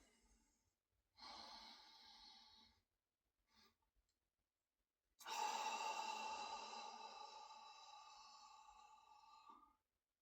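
Belly breathing exercise: a short inhale, then a long, steady exhale with a faint hum, close and quiet, with no talk.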